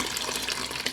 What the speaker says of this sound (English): So I'm adding in 3 cups of filtered water.